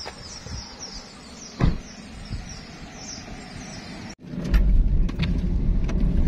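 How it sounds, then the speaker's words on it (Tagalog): Vehicles pass on a mountain road: a faint engine swell with birds chirping nearby, then a loud, close rush of traffic rumbles in suddenly. "Pero may mga dumadaan po na sasakyan at mga motor."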